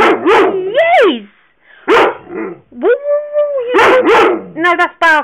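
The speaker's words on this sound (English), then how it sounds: "No, that's barking." A 12-year-old retriever and German shepherd cross barks and yips loudly nearby in several bursts, with some drawn-out, howl-like whining tones between the barks.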